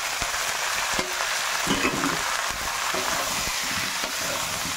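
Ground spices, salt, turmeric, coriander and chilli powder, sizzle in hot oil for a fish curry, a steady close frying hiss broken by scraping stirs.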